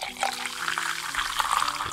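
Beer poured in the Tavern Manager video game, a soft continuous splashing, trickling liquid with faint bubbling under a low background hum.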